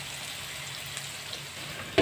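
Chicken sizzling steadily in a pan while being cooked into a spiced dish with kalonji seeds; the frying crackle is continuous and moderately close, ending with a brief sharp knock near the end.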